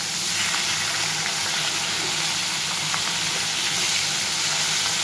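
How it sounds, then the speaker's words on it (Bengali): Pieces of katla fish belly fry in a wok of hot oil, giving a steady, dense sizzle and hiss that runs unbroken throughout, with no voices over it. "এরকমভাবে মাছগুলো আমি সব ভেজে নেব।"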